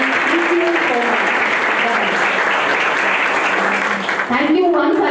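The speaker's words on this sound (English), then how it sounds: "a big round of applause to all the organizers" Sustained applause from an alumnae coffee gathering audience, many people clapping steadily and loudly, with a voice speaking faintly over the clapping at the start and end.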